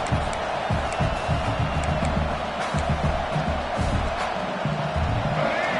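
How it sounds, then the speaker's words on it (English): A football stadium crowd keeps up a dense, continuous roar of cheering and noise, distant and broad, with scattered thuds and claps rising through it. "This crowd bringing the energy and noise early."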